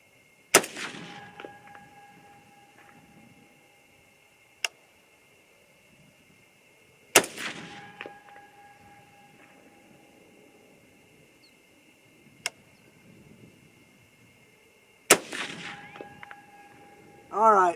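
Four sharp 6.5 rifle shots fired with StaBall 6.5 handloads behind 90-grain Nosler BT or Hornady ELD-X bullets, spaced several seconds apart with faint ringing after each, and quiet talk between some of them.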